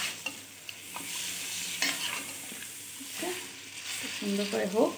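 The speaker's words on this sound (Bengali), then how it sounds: "তারপর এটা সুন্দর করে তেলটা গায়ে লাগিয়ে দেব।" Chicken for a Bengali chicken korma is stirred in hot oil, with close scraping strokes over steady frying hiss that build to a louder burst at the end, while a voice speaks briefly.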